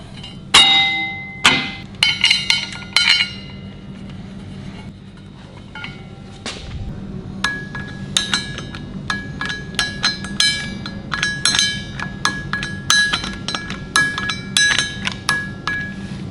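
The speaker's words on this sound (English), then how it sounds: "So it's time to fit our Rod Shop Turbo pattern flex plate." Metal clinks and taps while a Rod Shop Turbo pattern flex plate is fitted and bolted up during an LS series left hand starter conversion, with scattered sharp close clinks, a few louder knocks, then rapid ratcheting clicks.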